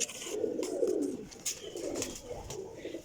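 Black-faced Sialkoti pigeons cooing in a pigeon loft, several soft, low throaty coos rising and falling close by, with faint higher bird chirps in the background.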